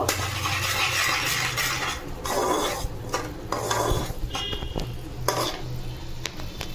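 A spoon stirs pieces of pomfret fish curry with turmeric and salt in a hot pan, giving continuous frying sizzle broken by scraping and clinking strokes against the metal, with no talking.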